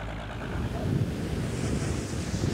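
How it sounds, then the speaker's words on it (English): Sea waves and gusting wind roll across open water around a fishing boat, a steady, loud broadband wash of surf and wind buffeting with no voices. "Captain Xie Juanye is piloting his fishing boat to the open waters"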